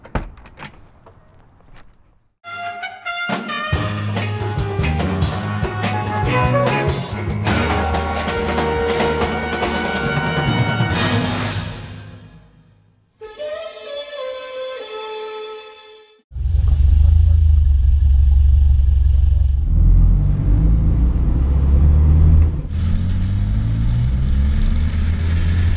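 A 1964 Volvo 1800S sports car drives along with a loud, low engine rumble in the second half, after a long stretch of music.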